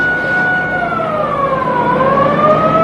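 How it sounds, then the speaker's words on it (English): An air raid siren wails during a Scud missile alert in Dhahran, Saudi Arabia, its rising and falling tone sweeping slowly over steady background noise, loud and continuous. "you can hear the sirens in the background"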